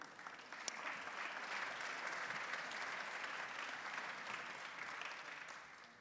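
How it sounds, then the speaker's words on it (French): A conference audience applauds the panelists of a round-table session on innovation, a sustained wash of many hands clapping, fairly faint and distant, holding steady before tapering slightly at the end. "je vous demande d'applaudir Olivier Campenon, Patrick Desbiens et Patric"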